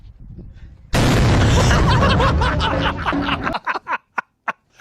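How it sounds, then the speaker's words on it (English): A flashbang grenade goes off in a played-back recording with a sudden loud blast and a roaring, ringing decay of a couple of seconds, followed by bursts of laughter. "That's a flashbang right there."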